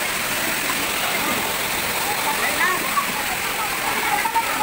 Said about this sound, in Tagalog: Dito tayo sa Busay Falls sa Iriga.